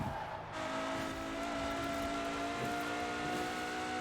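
Apollo Intensa Emozione supercar in Forza Horizon 4 driving steadily, its engine a continuous loud drone with tonal whine throughout, no talk over it.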